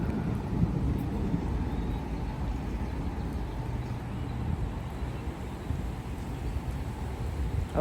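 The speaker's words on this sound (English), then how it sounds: "there goes the wind" Gusting wind during a severe thunderstorm with 40 mph gusts in Frisco, Texas, a steady, loud, broadband roar and rumble buffeting the microphone throughout, with no speech.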